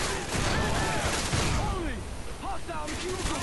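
In Modern Warfare 2, enemies open fire in a bursty fusillade of gunshots. The sound is dense and layered, with a voice talking over the shooting.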